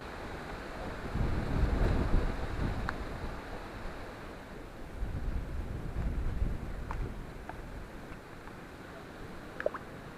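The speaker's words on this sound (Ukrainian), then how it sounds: "вітер великий" Strong gusts of wind during a rainstorm buffet the microphone outdoors at a fishing spot in loud surging waves, easing and returning, with a few faint clicks in between.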